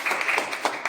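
Audience applause at a farmers' gathering, a dense, steady patter of clapping hands filling the full second with a few sharper bursts and no voices over it.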